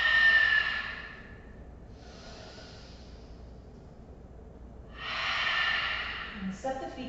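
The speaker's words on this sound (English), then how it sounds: "Breathe in through your nose, good. Yogi, all the way to the top, you're full, and then spill the breath out." Slow yoga exhale spilling out through the nose and mouth, two airy breath bursts separated by quiet, close and soft, with faint room tone between and a small shuffle at the end.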